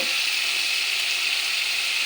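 Tengra fish and eggplant masala sautés in a pan, a steady, close, dense sizzling hiss that holds evenly throughout with no voices.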